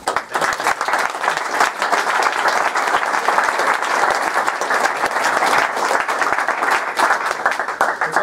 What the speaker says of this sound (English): Well, I think we should give them a round of applause.